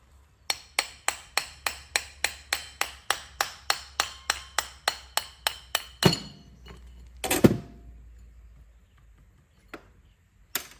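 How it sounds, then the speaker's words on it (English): A hammer taps a turbocharger shaft out over a microfiber cloth, about twenty sharp, evenly spaced metallic knocks close up, followed by a heavier clunk, a rattle and a few stray taps. "we're going to tap this shaft out"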